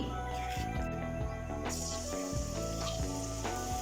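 Marinated chicken shallow frying in ghee, a steady loud sizzle close up with sputtering crackles and a few stirring clinks in the pan.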